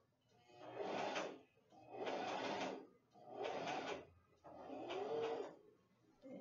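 A sewing machine runs a straight stitch in four steady bursts of about a second each, separated by short pauses, close and fairly loud with no talking.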